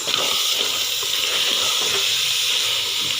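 Spinach sizzles and fries steadily in a pan with salt, a dense, continuous hiss with faint stirring crackles, close and fairly loud with no talk, part of a restaurant-style palak gosht dish.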